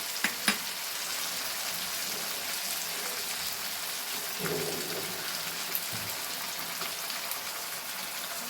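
Potatoes frying with ginger paste and ground spices, with a little water added, give a steady soft sizzle that sounds like light rain. A few faint stirring clicks come through near the start.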